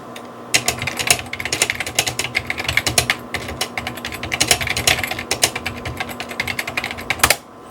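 Someone types on an old Mac's curved keyboard, producing rapid, close clattering keystrokes in uneven bursts that run for several seconds, with no voices.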